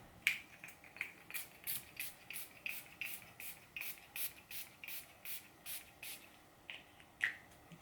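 A Mary Magdalene scent spray is pumped again and again in a steady run of short, soft hissing bursts, about two a second, close up and with no talking.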